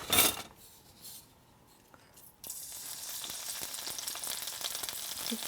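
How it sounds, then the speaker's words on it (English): Garlic hits hot vegetable oil in a pan on an electric stove set to medium heat. A few soft knocks come first, then a steady, close sizzle of frying starts suddenly and keeps going. "So the first thing we're going to add is our massive amount of garlic."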